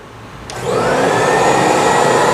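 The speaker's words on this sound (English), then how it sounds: "So we are now going to begin the cleaning process with this Bissell Big Green." A Bissell Big Green carpet cleaner switches on with a sharp click, its motor spinning up over about a quarter second into a loud, steady high-pitched whine and whoosh that holds close and alone.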